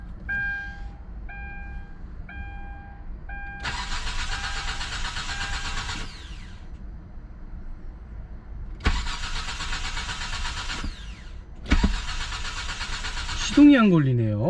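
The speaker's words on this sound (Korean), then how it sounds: "시동을 한번 켜보도록 하겠습니다." A Hyundai Grandeur TG sedan's starter cranking in bursts without the engine catching, three loud whirring attempts separated by pauses, with someone speaking and dashboard chimes.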